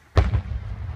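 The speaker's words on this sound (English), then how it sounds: "Riker's first fireworks." A single backyard firework bursts close by with a sharp, loud bang, followed by a sustained crackling rumble that lingers for the rest of the second.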